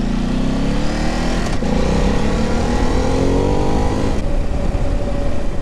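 A Ducati DesertX motorcycle being ridden on a slippery surface, its engine droning steadily and loud throughout with rising and falling pitch as it accelerates, plus wind and road rumble, no voices.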